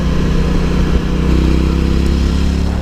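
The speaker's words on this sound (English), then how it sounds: "It's an inline twin, a parallel twin, but with the 270-degree crank, it sounds like a cool V-twin" A 900 cc parallel-twin motorcycle engine with a 270-degree crank idles and burbles with an uneven, V-twin-like pulse, a steady low throb close by with a slight rise in pitch midway, no voices.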